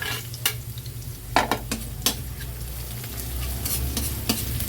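Garlic browning and ginger added in a pan on a gas stove for adobong chicken feet: a soft continuous sizzle with several sharp clicks and scrapes of a utensil stirring, fairly quiet and with no talking.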